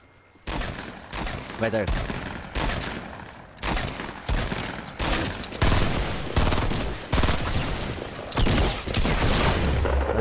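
Bursts of automatic gunfire in the video game Fortnite, loud repeated volleys separated by short gaps, with a player's brief voice heard between shots.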